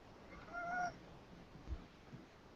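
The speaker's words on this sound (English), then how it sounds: "Hey, Rob, I see a white cat behind you" A white cat gives one short, faint meow in the background of a quiet indoor room, followed by a few soft low thumps, with no speech.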